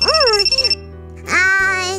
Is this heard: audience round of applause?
no